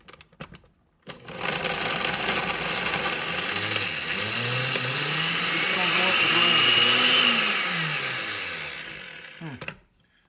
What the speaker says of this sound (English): I guess in a blender, there's not a lot of space at the bottom, right?